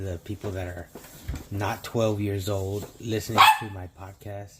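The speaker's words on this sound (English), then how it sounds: "and that's my dog" A pet dog barks several times in the background, with short yips between them, under someone talking casually on a podcast.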